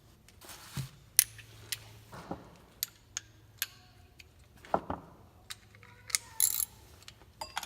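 A ratchet wrench clicks in short, irregular bursts while loosening a nut on a billet flywheel during a stage 2 performance kit install, close and fairly quiet with pauses between strokes.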